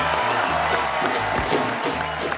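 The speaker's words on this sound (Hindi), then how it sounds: "एक रिश्ता साझेदारी का की पूरी टीम के लिए जोरदार तालियां" A studio audience at a TV comedy show applauds loudly in a dense, steady wash of clapping and crowd noise, with music playing underneath.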